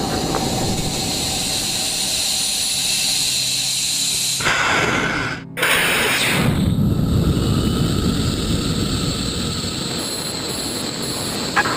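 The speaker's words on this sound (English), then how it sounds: "3, 2, 1, fire. Missile away." A rocket motor burns after a missile launch, a loud, steady roaring hiss that briefly cuts out and then resumes, broad and sustained over the whole stretch with no talk.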